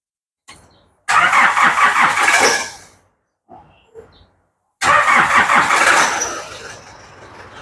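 A car engine is cranked, catches and roars to life in two loud starts separated by a short pause with a few faint clunks, each burst then settling down, close by with no talk over it.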